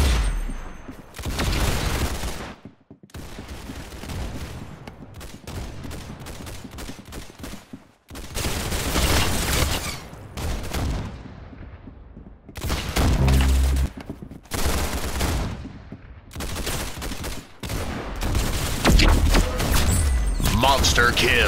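Rapid bursts of gunfire from the video game Arsenal crack in quick clustered volleys separated by brief gaps, loud and close throughout.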